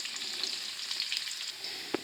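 Chopped onions fry steadily in hot oil in a pan while being browned for aloo chicken, giving a soft continuous sizzle with light stirring sounds, and one sharp utensil tap near the end.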